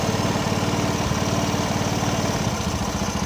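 A Honda Beat Street scooter engine runs at a steady idle, close and loud, with an even low putter and a slight rough pulse throughout.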